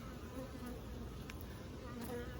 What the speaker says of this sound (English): There's a big ball of bees on the bottom.